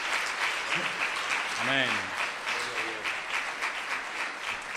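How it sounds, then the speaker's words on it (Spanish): Church congregation applauding during a sermon, sustained loud clapping from many hands, with a voice speaking over the top of it. "Aplauda fuerte al Señor en esta tarde."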